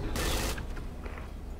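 Loud burst of player gunfire in the tank warfare game Project Reality on the Kashan map, a dense fusillade of shots up front, then fading rumble and scattered distant booms.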